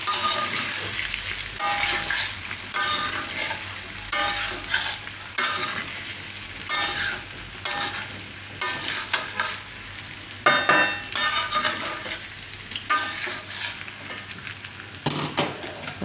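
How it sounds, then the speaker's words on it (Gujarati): A spoon steadily stirring and scraping leftover roti muthiya in a pan, with a continuous rhythmic stirring texture and light sizzling underneath, close and fairly loud with no talk. "ઉપરથી સારી રીતે ખાલી એને મિક્સ કરવાનું"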